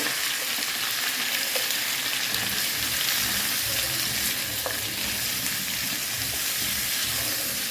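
Malabar spinach curry (pui shak chorchori) stirred in a hot pan, giving a steady, faint sizzle with light scraping and occasional soft clinks from the spoon.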